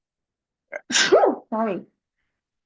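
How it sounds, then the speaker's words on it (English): A person sneezes once, close and sharp, right after a brief spoken word, then falls silent. "Excuse me, I'm going to sneeze here."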